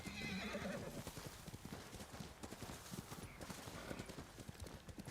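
A horse in Ghost of Tsushima gives a whinny early on, followed by a rapid, busy patter of hooves that continues to the end at a fairly steady, moderate level.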